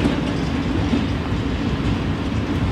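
Polish ET22 electric locomotive in historic livery hauling coal wagons past, a steady loud rumble of rolling wheels and wagons close by with faint clickety-clack, no talk.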